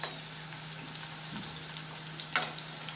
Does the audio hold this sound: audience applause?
no